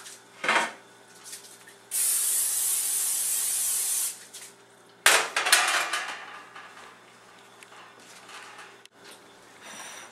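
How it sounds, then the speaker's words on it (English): Cooking spray misted from an aerosol can onto a large dark baking sheet in a home kitchen, a steady hiss of about two seconds. Clattering pan and utensil handling comes before and after it. "lightly grease a large baking sheet"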